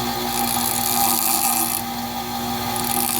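Small grinding wheel lightly deburring the edge of a VW 09G transmission valve body, a steady high whirring hum held at close range for a few seconds without talk.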